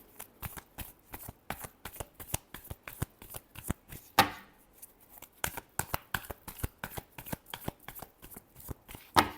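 Tarot cards are shuffled by hand in a quick run of crisp, snapping riffles and taps, close and fairly soft, with one longer burst of fluttering midway and no talk.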